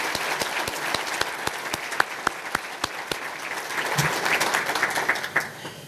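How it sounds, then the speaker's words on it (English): An audience at a chamber of commerce awards banquet claps steadily, a room full of applause with sharp individual claps standing out near the microphone. "Let's give them another round of applause."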